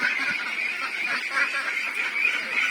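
A flock of 17-month-old ducks honks and quacks continuously at close range, a dense, steady chorus of overlapping calls with no voices on top.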